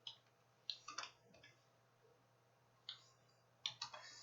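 Sparse, quiet clicks of a computer keyboard come in short clusters with pauses between them as an address is typed, close and faint.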